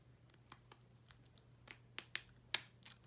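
Scissors snip through a paper slipper template, trimming out its middle: a quiet, sparse run of short crisp cuts, with one sharper, louder snip near the end.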